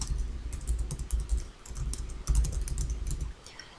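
Typing on a computer keyboard while entering text into a PowerPoint slide, a steady close run of dense key clicks with a brief pause in the middle, no voices.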